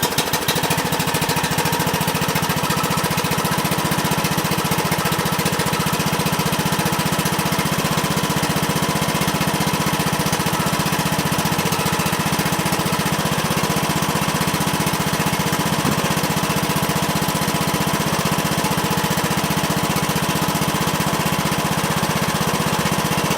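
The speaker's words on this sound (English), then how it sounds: "so let's fire up the John Deere. Mine, you have to sit on it, so we're just going to start her up and see how she does." A John Deere riding lawn mower engine runs steadily and loudly at close range, a constant chugging drone with no pauses or talk.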